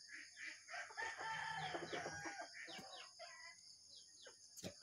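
Several chickens cluck nearby while a rooster crows, with scattered bird chirps in a quiet farmyard.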